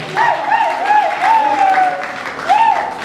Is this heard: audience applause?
yes